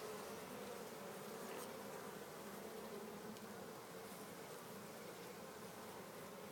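Honeybees swarming around an open beehive, a steady dense drone of many wings filling the air, close and continuous without any voices.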